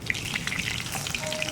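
Fish laid over curry leaves in hot oil sizzles and crackles steadily, with close, continuous spitting bursts throughout.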